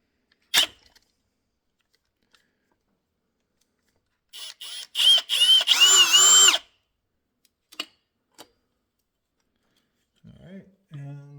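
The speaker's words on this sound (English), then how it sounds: "I got my rigid here with the little shorty driver on it. So I'm just going to put this on the shorty driver and then take off this fan bolt" A Ridgid cordless driver fitted with a shorty bit whirs in several short bursts while loosening a fan bolt on a Suzuki DRZ 400 motorcycle engine, close and loud between quiet gaps with scattered clicks.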